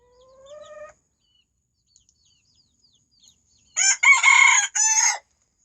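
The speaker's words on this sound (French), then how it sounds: "Mon coq bleu caille." A blue quail-coloured rooster crows once, loud and close, in a burst of about a second and a half near the end, after a brief earlier call and stretches of silence.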